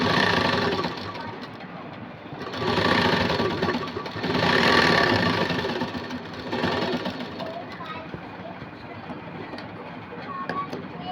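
A sewing machine stitches cloth for a princess-cut blouse with a dense, loud mechanical rattle that swells and eases in waves, running continuously throughout.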